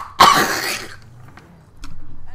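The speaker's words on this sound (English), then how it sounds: "And I really have to cough, so pardon me one moment." A single loud cough up close, followed by faint throat noises and a low rumble, with no speech over it.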